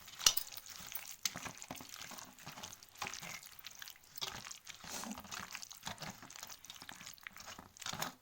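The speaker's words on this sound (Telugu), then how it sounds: "పెరుగులో ఇవన్నీ కలుపుకోవాలి" Spoon stirring green chillies and chopped onion into yogurt in a bowl for Telangana-style salla charu, soft wet scraping and squelching strokes repeating steadily, close and fairly quiet with no talking.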